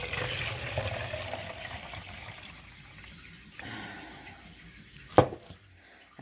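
Water poured into a self-watering plastic bottle for sowing seeds, a steady trickling splash that thins and fades, broken by a sharp knock toward the end.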